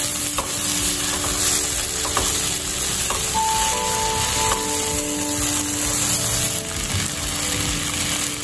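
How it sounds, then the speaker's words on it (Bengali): Aubergine fried with green tomato is stirred in a pan as chopped coriander leaves are mixed in. Close, continuous sizzling carries scraping stirs and a faint steady hum in the background. "ধনেপাতাটাও খুব ভালো করে মিশিয়ে দেবো।"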